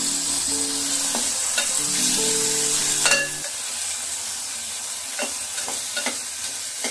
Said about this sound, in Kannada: ಸ್ವಲ್ಪ ಚೆನ್ನಾಗಿ ಮಿಕ್ಸ್ ಮಾಡಿ